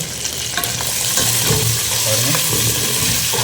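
Green chillies frying in a pan of mutton gravy, with a loud, close, bubbling sizzle and stirring scrapes, unbroken for the whole stretch, with no talking.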